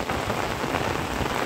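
Heavy monsoon rain falling steadily in Udupi near flooded paddy fields, a dense, even hiss of close rain on surfaces with no pauses and no voices.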